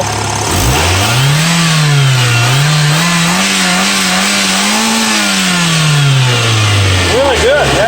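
A Toyota RAV4 engine revved with the throttle, pitch climbing quickly from idle, holding and wavering through several close, loud revs, then dropping back down near the end.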